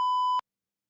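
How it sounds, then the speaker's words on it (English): A single pure electronic beep used as a censor sound effect, a steady close tone held for under half a second before cutting off abruptly into silence. "didn't realize I had a beep"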